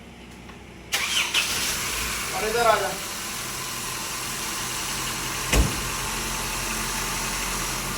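An overheating car, its coolant drained and a bleeding tool fitted, cranks briefly and fires up, then settles into a steady, close idle that runs to the end, with a few words spoken over it.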